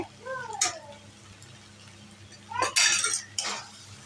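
A spoon scrapes and clinks against a pan of banana flower curry with chickpeas, two short bursts of metallic stirring separated by a quiet pause, with a soft voice briefly heard at the start.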